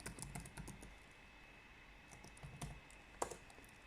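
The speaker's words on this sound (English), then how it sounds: "he's going to ask us the password, and we type it in again" Someone types a password on a computer keyboard in quick, quiet taps with small pauses between them, with a faint steady hum underneath.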